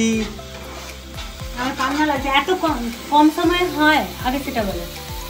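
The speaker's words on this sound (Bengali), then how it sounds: "স্পেশাল আমার জন্য চাউল ফ্রাই উনি অনেক কষ্ট করে রান্না করছেন" Fried rice sizzles and crackles in a hot pan as it is stirred at home, the frying loud and continuous with bursts of clatter from the spoon.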